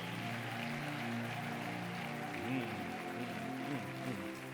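A church congregation claps in a steady, dense patter that stays fairly faint, with voices singing or calling out over the clapping throughout.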